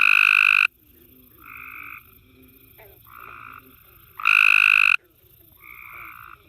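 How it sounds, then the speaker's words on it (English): Green frogs call during mating season alongside a nearer frog, loud croaking bursts repeating in a rough rhythm with quieter calls between them, no voices. "And then there's also some green frogs calling in the back."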